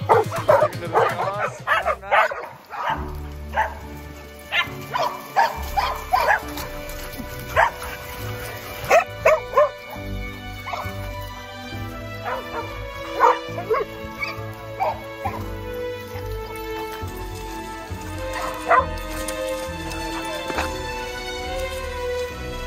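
Excited dog yips and barks come in bursts over a busy outdoor farm background, with a person's voice calling out now and then.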